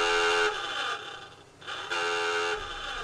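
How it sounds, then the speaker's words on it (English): Diving alarm aboard the WWII Balao-class submarine USS Pampanito (SS-383), a harsh electric buzzing honk sounded in two long blasts separated by a short pause, moderately loud inside the hull. "the officer of the deck would sound the diving alarm"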